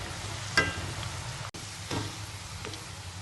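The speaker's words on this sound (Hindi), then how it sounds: "ये जो मैंने गोल काटी हुई चिप्स है वो मैं इसको फ्राई करने लगी हूँ।" Round-cut gram-flour chips frying in oil give a soft, continuous sizzle, with a few sharp crackles and clinks from being dropped or stirred in the pan.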